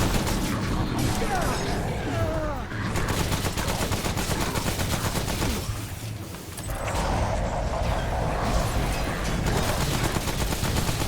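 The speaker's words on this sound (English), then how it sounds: "Just keep moving and shooting" Rapid gunfire fills a session of the video game Remnant: From the Ashes, with bursts of shots and booms running almost continuously, loud and dense, broken by a brief lull midway.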